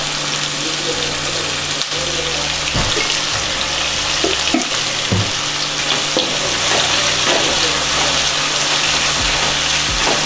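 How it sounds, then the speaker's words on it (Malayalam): Onions fry in a pan for chicken perattu, a continuous loud sizzle broken by scattered scraping knocks as they are stirred toward golden brown, with no talk. "ആ ഒരു ഗോൾഡൻ ബ്രൗൺ കളർ ആവുന്നിടം വരെ നമുക്ക് ഇളക്കി കൊടുക്കാം"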